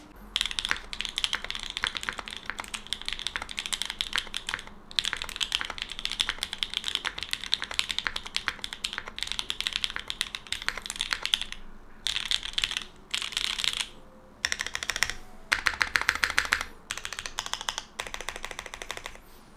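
Typing on a custom mechanical keyboard, brisk runs of crisp clacking keystrokes recorded up close, broken by several short pauses between bursts.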